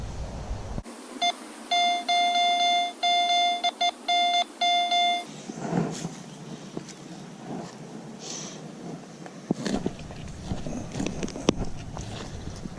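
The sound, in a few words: metal detector beeping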